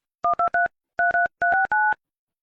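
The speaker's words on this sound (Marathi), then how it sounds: "तुम्ही बघा तिला फोन लावतो आता." Touch-tone keypad beeps while dialing a phone number to call a girl from Telangana, a quick burst of three dual tones, a pause, then four more, crisp and close with no talk.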